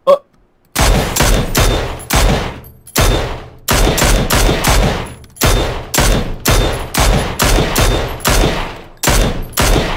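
Rapid bursts of gunfire from the video game PUBG on the desert Miramar map: loud, near, repeated volleys in quick succession with short gaps between them across the whole stretch, and no talk over them.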